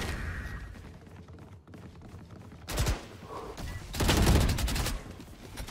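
Video game gunfire from an enemy's weapon in Valorant, two loud close bursts of rapid shots, the second longer, with quieter game ambience between them.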